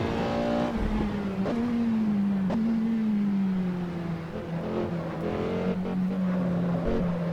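Porsche 918 hypercar driven in the Assetto Corsa racing game, its engine holding a steady, loud drone throughout with small pitch dips at gear changes and a few sharp clicks.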